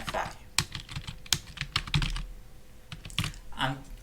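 Brisk typing on a computer keyboard while editing a social network post, irregular clacking keystrokes close by with a voice talking over parts of it.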